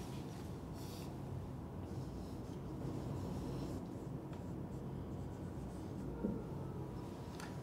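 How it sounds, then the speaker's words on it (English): Writing on a board during a physics lesson on the electric field of a charged shell, a steady scratching and tapping that continues faintly under low room noise, with no talk. "I will write it for you."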